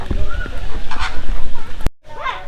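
Flamingos and other birds in a flock at Al Ain Zoo give loud honking, goose-like calls over a busy outdoor din, then a sudden cut and a final nearer squawk.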